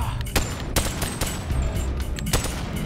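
Bursts of gunfire in the Boneworks VR game, several loud sharp shots at irregular intervals over a dense, noisy game background, with no talking.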